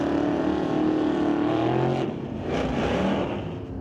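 Drag race cars launch side by side down a quarter-mile strip, a loud sustained engine roar that shifts pitch partway through as the cars pull away.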